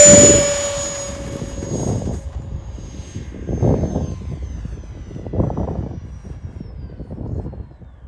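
A model aircraft makes a speed run aiming for 200 mph, its engine whining in a few distinct passes that swell and fade at a moderate distance.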